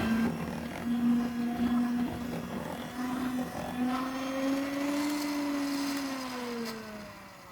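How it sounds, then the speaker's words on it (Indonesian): An electric hand mixer beating margarine and powdered sugar for almond chocolate chip spritz cookie dough, a continuous whirring motor hum that shifts pitch slightly as the batter softens, steady and close with no talk. "Lanjutkan mixer sampai menjadi lembut."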